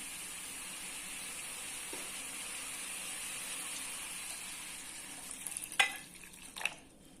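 Milk is poured into a pan of sautéed carrots, setting off a steady hiss of frying that ends in a few sudden, loud splashes and sizzles as the liquid lands.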